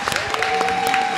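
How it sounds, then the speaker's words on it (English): Audience applause at a school board of education meeting honoring STEP team students, a brief burst of dense clapping with scattered cheers, steady and fairly loud throughout. "let's give them a hearty round of applause"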